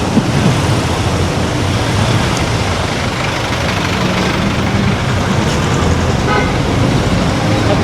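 Dense, loud traffic with jeeps rumbles steadily nearby as engines idle and pass, with a horn tooting briefly amid the noise.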